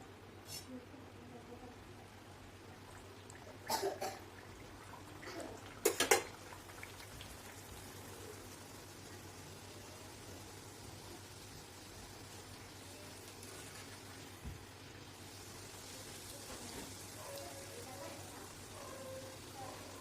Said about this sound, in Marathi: तुम्ही बघू शकता आपली पुरी ही मस्त तळलेली आहे।